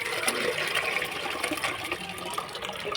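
Water from a Tamil home compost mix of vegetable stems, flowers, onion skins and apple, orange and carrot peels is poured as fertiliser onto a potted plant, a steady close splashing pour running throughout with no talk.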